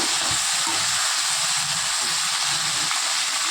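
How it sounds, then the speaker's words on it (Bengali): Steady, loud sizzling of okra and potatoes frying in a pan, a continuous bright hiss with occasional low clatters of stirring. "ভেন্ডিগুলো সুন্দর করে ভেজে নেব ওর সঙ্গে একটু কিছু আলু দিয়ে দেবো"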